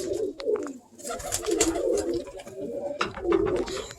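Pigeons bred as working birds, cooing and calling in bursts at close range, with wing movement and light rustling around them throughout.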